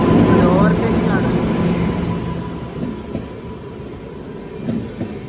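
A Shatabdi express passing an Intercity Express stopped at a station, a loud rolling rumble with clattering wheels that fades, with voices talking over it.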